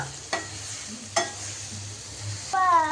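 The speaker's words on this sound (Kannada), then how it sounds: "ಆಮೇಲೆ ಚೆನ್ನಾಗಿ ಫ್ರೈ ಮಾಡ್ಕೊಬೇಕು" Grated carrot and coconut frying in a pan for homemade mango rice: a quiet sizzle broken by three spatula scrapes at intervals, the last a longer squeaky scrape across the pan, close and without talk.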